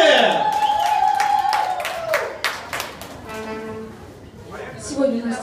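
A concert audience claps rhythmically to welcome a singer and a band on stage, steady hand claps mixed with stage sounds while a host speaks over them.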